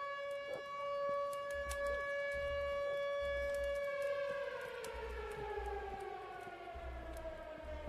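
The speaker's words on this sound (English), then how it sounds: "All that sirens and shit." Police sirens in a video game wail loudly and continuously, the pitch sliding down and back up in a steady cycle, with a low rumble of game noise underneath and no talking.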